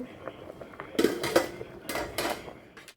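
Rice, lentils and vegetables are stirred together in a pot for village-style khichuri with turmeric. The spoon scrapes and clinks against the metal in a few short bursts, close and moderately loud.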